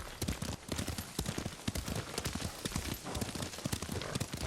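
Horse hooves clip-clop steadily during a ride in the video game Ghost of Tsushima, a close, continuous rhythmic patter of hoofbeats with no talk over it.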